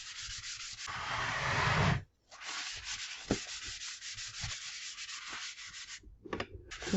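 A cloth rubs and wipes across kitchen wall tiles and a counter, a steady close scrubbing with a brief pause and a few light knocks near the end.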